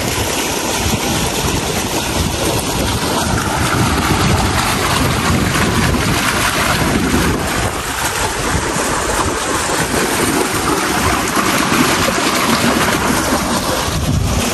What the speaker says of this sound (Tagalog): Nagpapalabas po si Papa ng tubig kaya dito po sa labas ay malakas ang agos.